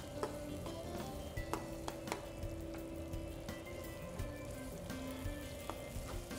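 Pepper chicken frying in hot oil for milagu chicken varuval, a steady close sizzle with scattered pops and crackles throughout, no voices.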